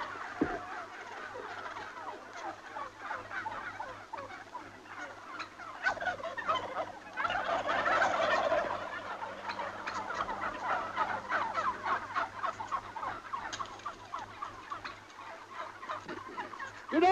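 A large flock of turkeys, numbering in the thousands, gobbles in a dense, continuous chorus of overlapping calls that swells in the middle and carries on without any talking.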